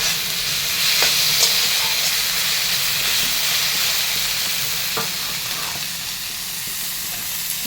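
Onions and tomatoes fry in a pan for a Bengali duck egg dish, a steady close sizzle and hiss with occasional stirring scrapes and clicks, no voices.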